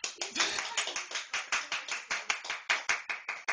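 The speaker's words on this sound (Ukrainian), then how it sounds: "А тепер покажіть, як ви вмієте гарно плескати." Children clap their hands together in a steady, fairly even rhythm at a birthday party, each clap crisp and close, sounding alone without talk.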